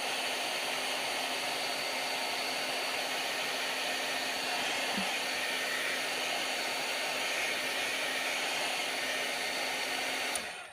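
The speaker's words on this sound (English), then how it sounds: "now I'm going to zap this with my heat gun" A heat gun blows hot air over a watercolor card, a steady broadband rush with a faint hum that holds unbroken for about ten seconds, close and even, then cuts off at the end.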